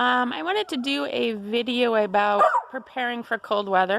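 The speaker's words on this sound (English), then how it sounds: "Sorry about the barking dog." A dog barks and yips intermittently on a cold-weather homestead, the barks partly masked by someone talking continuously over them.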